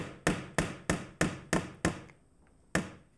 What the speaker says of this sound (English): Then I'm going to put a nail in there. Okay, so in the nail goes.